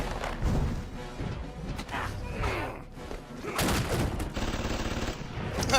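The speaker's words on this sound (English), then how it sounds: "AK-47, okay." Rapid bursts of AK-47 gunfire and impact thuds ring out from an animated fight between Venom and Bane, loud and repeated in clusters, mixed with chaotic crashes and brief voices.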